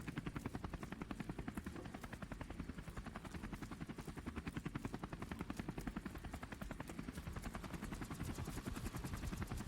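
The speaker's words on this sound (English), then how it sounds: "We're going to a helicopter." Helicopter in the video game Call of Duty 4: Modern Warfare, a loud, steady rotor chop with rapid rhythmic thumping that continues throughout, with no speech.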